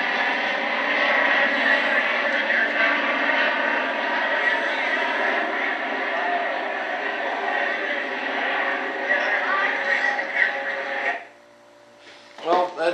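A B-17 bomber, a propeller aircraft, flies past with flaps and landing gear down, its engines droning loud and steady for about eleven seconds before cutting away abruptly, with a brief burst of noise at the end.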